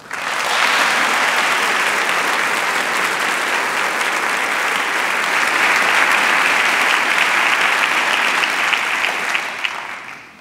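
Audience applause welcoming speaker Jeremy Courtney at a Calvin University talk, a steady, full clapping that holds for about ten seconds before easing off at the end.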